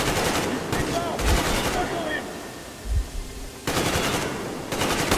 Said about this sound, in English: Okay, now I'm gonna shoot at y'all.